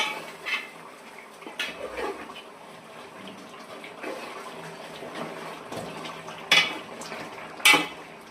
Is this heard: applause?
no